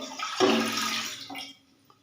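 Two cups of water poured into a cooking pot, a steady close splashing rush for about a second that tapers off and stops.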